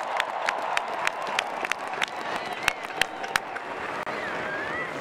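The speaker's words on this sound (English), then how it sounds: "Ladies and gentlemen, a round of applause." Crowd applause at a college football national championship parade and celebration: broad, steady clapping from a large outdoor audience, with sharper individual claps standing out near the microphone.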